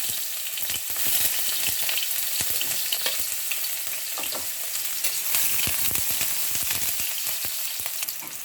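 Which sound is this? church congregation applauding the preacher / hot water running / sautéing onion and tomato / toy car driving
sautéing onion and tomato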